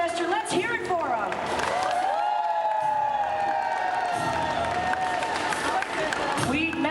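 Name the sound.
audience applause and cheering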